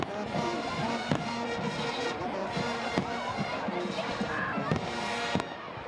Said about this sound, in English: And the fireworks continue on here.